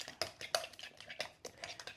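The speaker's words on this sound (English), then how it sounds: "give that a little stir" Seasonings including garlic powder are stirred in a bowl for New Orleans-style fish cakes, heard as quiet, rapid clinks and scrapes of a utensil against the bowl in an uneven rhythm, close by.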